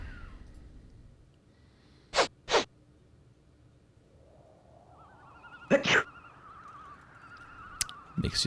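A cartoon character in the Goblins Quest 3 adventure game sneezes from pepper. Two sharp sneeze bursts come first, then a pair of louder sneezes over a faint game tone and a short click, with no talking.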